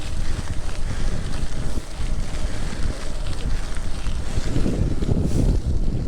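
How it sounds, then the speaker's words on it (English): Strong wind buffets the microphone while cycling into a headwind on a rural Dutch road, a loud continuous rumbling roar with gusty swells and no talking. "It's windy."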